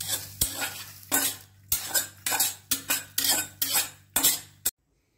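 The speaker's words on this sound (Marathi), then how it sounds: "पितळीमध्ये मटकी काढून घ्यायची." Dry-roasted sprouted moth beans scraped off a black iron pan into a brass plate, about eight quick rasping scrapes in a rough rhythm, close and clear, then sudden silence.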